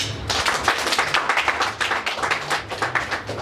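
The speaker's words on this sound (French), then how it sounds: "Vous pouvez applaudir pour eux." An audience applauds local authorities at a financing-day gathering in Dapaong, with dense, steady clapping from a nearby crowd that holds a constant level throughout.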